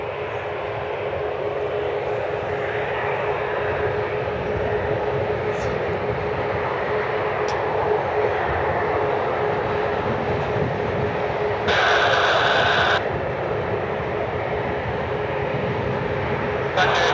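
Aircraft engines rumble steadily at Cleveland Hopkins airport as Aer Lingus and UPS planes taxi for single-runway operations, a constant loud broadband roar heard from a distance with a brief brighter hiss partway through.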